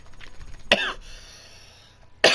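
Two sharp coughs ring out close to the listener, one early and one at the very end, with a quiet pause between them.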